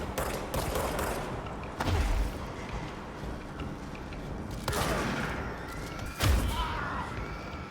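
Pistol shots fired in the video game Control, three sharp reports spaced a few seconds apart over a steady background of game ambience.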